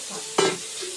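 Thinly sliced pointed gourd and potato dropped into hot oil on a gas stove, bursting into one sharp sizzle with a clatter, then a soft steady frying hiss.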